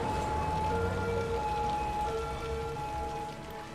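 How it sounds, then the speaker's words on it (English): Steady rain from the city-builder game Cities: Skylines patters continuously as a dense, even wash, with faint tonal game sounds running underneath and no speech. "rain is making everything super shiny"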